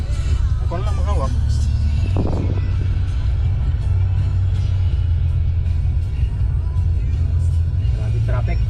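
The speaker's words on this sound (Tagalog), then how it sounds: "Grabe traffic." Heavy road traffic crawling near a bridge over a river: a steady, loud low engine rumble from idling and creeping vehicles fills the whole stretch, with people talking over it at the start.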